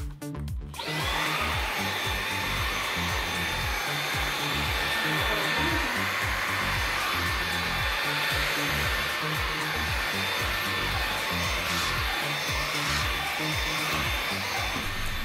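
Dreame V9 cordless vacuum cleaner running, a loud steady high-pitched motor whine with airy suction rush that starts abruptly and holds constant, close by and alone.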